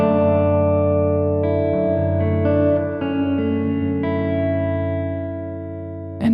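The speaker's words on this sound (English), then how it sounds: "as we get fully clockwise, there's no sound of the guitar anymore, it's just the reverb" Electric guitar played through an Alabs Cetus reverb pedal set fully wet, so only a sustained, washy reverb tail remains, smeared chords ringing and swelling continuously without a distinct dry attack, fairly loud and alone.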